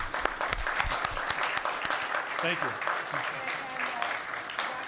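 Audience applause at a county council meeting, a dense wash of clapping throughout with a voice speaking over it.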